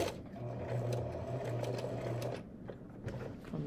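A sewing machine stitches fabric while sewing on a mouth piece with a back stitch at the start, giving a steady close mechanical whir that continues throughout.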